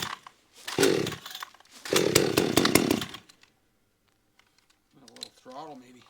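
A cheap Amazon gas chainsaw fires into two loud, close, raspy bursts of running, then cuts out to near silence before a brief voice speaks.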